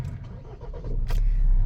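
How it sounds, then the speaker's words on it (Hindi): A Mahindra Scorpio N with a clogged DPF and regeneration warning is started: a short cranking burst, then the engine catches into a low, steady rumble that grows louder, close by. "तो इससे पहले मैं गाड़ी को करता हूँ स्टार्ट।"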